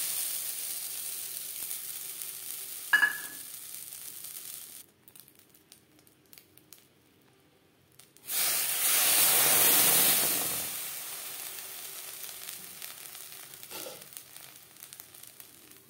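Chitoi pitha batter poured into a hot oiled pan sizzles in a loud, steady hiss lasting a couple of seconds, then fades to a quieter crackle, with a brief clink earlier and no talking.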